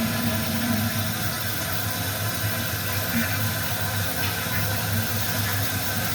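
A flushometer toilet with a newly replaced diaphragm flushes, and water keeps rushing in a long, unbroken, steady stream with a faint mechanical hum underneath.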